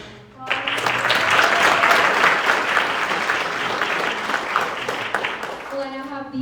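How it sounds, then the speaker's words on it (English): A crowd at a Ms Wheelchair Kansas pageant bursts into loud, sustained applause that swells quickly and holds, fading as a voice speaks at the end. "Let's give them another round of applause."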